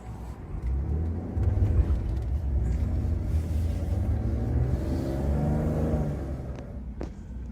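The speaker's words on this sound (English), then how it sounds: "There's a car a-coming." A 1998 Pontiac Fiero drives past on a rural highway. Its engine and tire rumble swells over several seconds, holds, then fades away as it passes at moderate distance.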